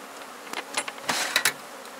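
A strong honeybee colony buzzing in a heavy beehive, a steady close drone with several louder bursts as individual bees pass near, no talking.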